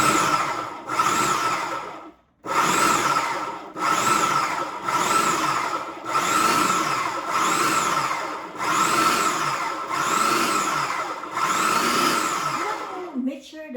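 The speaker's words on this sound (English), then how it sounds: "pulse them into the food processor" A food processor pulses butter and flour for shortcake dough, roughly ten loud, even whirring bursts separated by short pauses.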